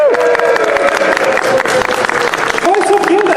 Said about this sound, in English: Shall we welcome them? Yes! With a huge round of applause.